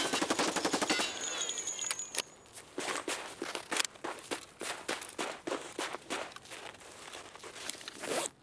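Rapid bursts of gunfire in a first-person shooter game, a fast automatic volley at first and then a string of separate sharp shots, loud and close with short gaps and no talk over them.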